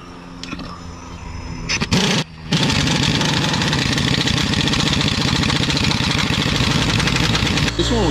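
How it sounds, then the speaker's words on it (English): Pneumatic impact gun tightening a subframe bolt on a Chrysler Concorde, a loud continuous rattling hammer after a brief pause, running steadily to the end. "Now I'm gonna zap it with the gun and it's gonna bring the whole frame back up in place."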